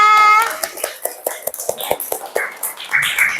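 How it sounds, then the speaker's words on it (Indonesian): A second-grade class applauding after a group presentation: scattered, uneven claps from children, fairly close, with a tone at the start and faint young voices mixed in. "Tepuk tangan semuanya."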